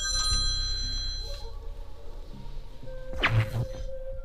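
An old telephone rings, with a metallic bell trill heard up close against a busy, fluctuating background.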